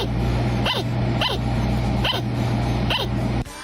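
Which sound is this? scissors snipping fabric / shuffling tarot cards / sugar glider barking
sugar glider barking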